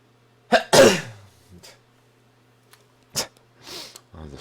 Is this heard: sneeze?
yes